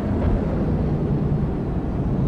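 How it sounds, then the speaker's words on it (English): An explosion in the military shooter game Project Reality gives a deep, sustained rumbling boom that fills the whole moment at steady loudness, with no voices over it. "He blew up, did he? Did you hear that explosion?"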